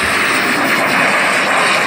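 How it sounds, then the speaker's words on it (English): Twin turbines of a B-2 Spirit stealth bomber spooling up at the Florida Jets 2017 event, a loud continuous jet roar and hiss close by with no break and no talking. "He'll be spooling up both turbines on board."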